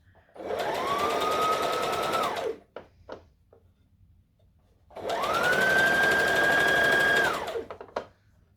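A sewing machine stitches thick Halloween costume fabric in two sustained runs of whirring motor and rapid needle chatter, each about two seconds long, separated by a short pause with small clicks and handling noises.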